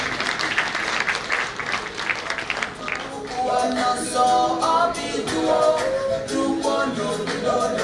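Applause from the audience at the launch of the Djaka Festival Adja 2022 in Abidjan swells briefly, then gives way to voices talking and music-like tones over a steady crowd murmur.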